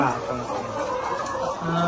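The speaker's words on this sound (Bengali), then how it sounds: "মুরগিগুলো দেখতে পাচ্ছেন খাবার খাচ্ছে বিকালবেলা" Layer chickens cluck steadily close by while feeding in the afternoon, a dense overlapping flock sound with a busy, continuous background.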